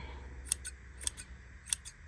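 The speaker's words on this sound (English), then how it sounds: "You can trim those little stragglers up." Scissors trimming stray yarn ends on a pom-pom, three quiet, close double snips spaced about half a second apart over an otherwise hushed background.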